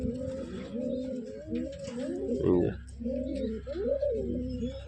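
Short-sized pet pigeons kept at home coo loudly and close by in rolling, repeated low phrases, nearly continuous, while someone speaks briefly over them.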